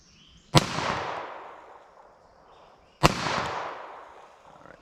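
Two CCI Uppercut .22 Long Rifle rounds fired at a silhouette target, sharp loud cracks a few seconds apart, each trailing off in a brief outdoor echo.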